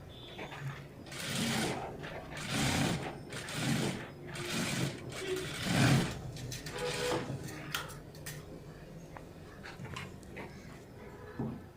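Sewing machine stitching a blouse sleeve in short repeated bursts of rapid mechanical clatter, close by, settling into quieter handling noises toward the end.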